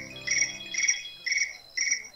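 Phone alert tone imitating chirping crickets, four short evenly spaced bursts of high, clean trilling, quiet and alone.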